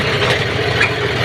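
A John Deere 5310 tractor-mounted harvester sits idling during rice paddy harvesting, its engine giving a steady, close, low rumbling hum throughout the short moment.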